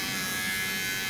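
An electric trimmer buzzes steadily and close as it shaves pilling and fuzz balls off clothing, a continuous high whirring hum with no pauses.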